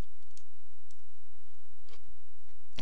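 Sharp, faint mouse clicks, a few isolated taps spread across a quiet moment while working in AutoCAD 2010 software, with no talking.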